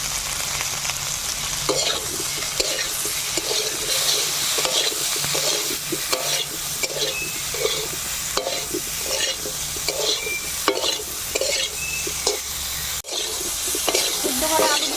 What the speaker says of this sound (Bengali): সিদ্ধ করা আলুগুলো ভাজা হয়ে গেছে